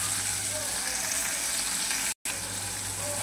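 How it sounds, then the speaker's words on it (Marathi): Chopped onion with curry leaves fries crisp in a pan as tomato goes in, giving a steady close sizzle with a brief dropout near the end. "कांदा आपला क्रिस्पी फ्राय झाल्यानंतर आपण त्यामध्ये टाकून घेतलाय टोमॅटो।"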